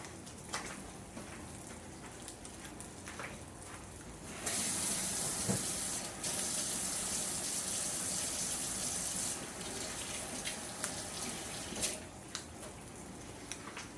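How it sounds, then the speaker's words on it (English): Hands are rinsed under a running kitchen tap. A close, steady gush of water swells louder for several seconds, then eases to a quieter trickle with small splashes and clinks. "I'm going to toss this and rinse off my hands."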